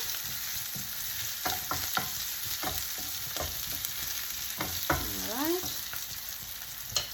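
Sliced onions sizzle in a hot pan with a steady frying hiss, broken by a series of scraping stirs and clinks of the spoon against the pan, heard close with no talking.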